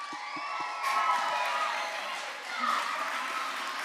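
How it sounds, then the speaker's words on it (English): A lively audience of children cheers and applauds to welcome an author and illustrator at a World Book Day event, a broad, steady wash of crowd noise swelling twice, with faint voices mixed in. "Big round of applause."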